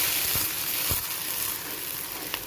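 Tomatoes tipped into a pan of frying arbi masala hiss and sizzle steadily, with a couple of soft thuds of pieces landing as the spices crackle close up.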